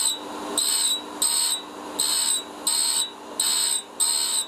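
A cutter grinder finishes a BSA A10 cam follower set on a peg, giving a steady high-pitched whine broken into six regular bursts, each about half a second long with short gaps between, close and loud.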